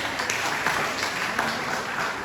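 Applause from an audience at a college orientation day, a dense, steady wash of many hands clapping together that holds at an even loudness throughout, heard from within the crowded hall.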